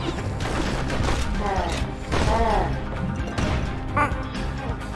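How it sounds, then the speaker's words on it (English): In the action video game Bastion, a shotgun fires amid a busy, loud mix of blasts, crashes and game effects, with bursts of impact noise recurring every second or so. "Shotgun"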